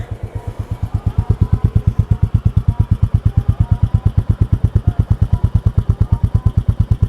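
A Royal Enfield Classic 350 motorcycle engine idles just after starting, close and loud, its single-cylinder thump beating in a steady, even rhythm throughout with no talk.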